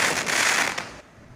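Fireworks set off at Hehuan Mountain over the Mid-Autumn holiday give a short, loud crackling burst that cuts off and fades within about a second.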